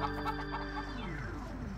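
Chickens cluck repeatedly in a farmyard, a close, busy run of short hen calls layered over steady background noise.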